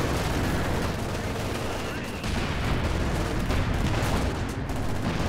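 Katyusha rocket artillery fires in a Company of Heroes 2 battle: a loud, unbroken roar of launches and blasts that fills the whole stretch, with a voice faintly buried underneath.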